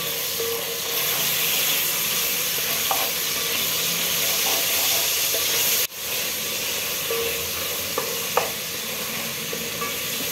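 Onions with ginger garlic paste fry in a pan for a Hyderabadi kheema tahari, a steady close hissing sizzle with occasional light stirring clicks.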